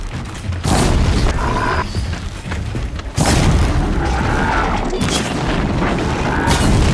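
A robotic machine blowing up in Horizon Zero Dawn: heavy booming blasts with crashing debris, loud and close, several big explosions rolling one after another during fighting.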